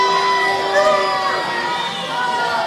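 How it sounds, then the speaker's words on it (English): A standing-room-only wrestling crowd in Fernandina Beach jeers and shouts loudly and without a break, with voices swelling together in a sustained, unhappy roar. "Standing room only crowd in Fernandina Beach not happy to see the Violent Gentleman and Brian Blitz"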